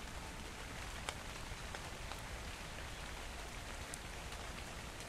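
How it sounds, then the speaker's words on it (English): Quiet, steady rainfall in the video game Dark and Light, an even soft hiss of drops with a few faint sharper patters, no voices over it. "I got just into my house just in time for rain."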